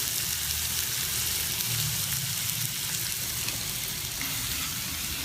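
Spices with salt and chili powder being stir-fried in a hot pan for a Gujarati thali dish, giving a steady, dense sizzle and crackle close up, with no talking.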